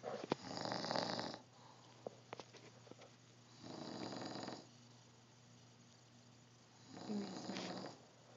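A sleeping man gives three slow, rasping snores that rise and fade at steady intervals, with quiet breathing and small clicks in the gaps.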